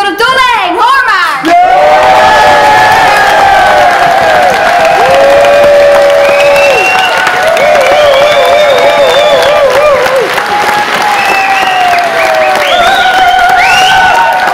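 A packed hall audience at a school musical breaks into loud, sustained applause and cheering, with children's excited voices and whoops riding over the steady clapping for the whole stretch.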